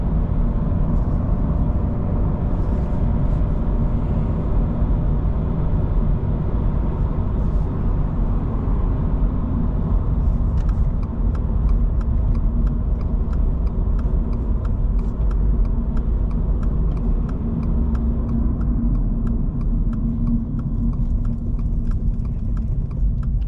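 2025 Toyota GR86 on the road, a steady low engine and tyre drone from inside the cabin, loud and continuous throughout with faint rhythmic ticking over the later part, no talking.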